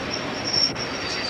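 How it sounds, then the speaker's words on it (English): A train arriving at a platform at Stafford station, a steady rumbling roll with a thin high wheel squeal running across it, close and continuous for a moment, no voices. "The train now approaching platform 1 is the 118 from Carlisle"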